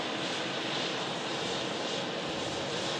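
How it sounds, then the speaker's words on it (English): Finnair Embraer 190 LR airliner arriving from Helsinki, a loud, steady, broad engine roar that stays constant throughout with no talk. "Finnair arriving in from Helsinki. Embraer 190"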